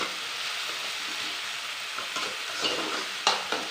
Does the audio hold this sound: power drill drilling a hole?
no